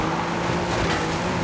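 A 1970 Dodge Challenger in the racing game Forza Horizon 5 brakes hard during a street championship race, a steady, loud engine roar with faint tire noise throughout, no pauses.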